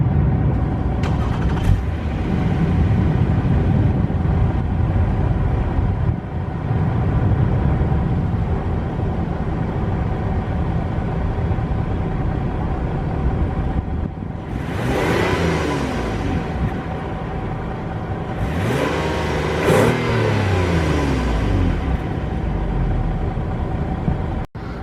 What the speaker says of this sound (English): I'm going to give you guys a start up and I'll rev the engine a little bit so you guys can hear what it sounds like